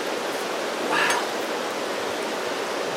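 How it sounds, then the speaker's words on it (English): Wind blows outdoors at a campfire cooking spot, making a steady, loud, broad rushing roar that swells briefly before settling back to a constant wash. "The wind had to shift right when I knelt down."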